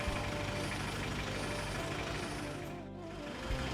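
A bus engine idles steadily at a bus terminal, a continuous low rumble that stays close and fairly loud, with a brief dip near the end.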